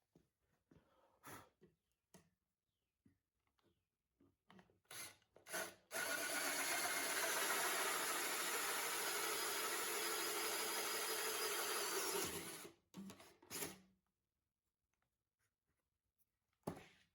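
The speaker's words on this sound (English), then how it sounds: "a little edge cleanup on the disc sander and it'll be good to go." A disc sander grinds the edge of a wooden disc in one continuous, fairly loud burst of about six seconds, framed by quieter scraping and handling noises before and after.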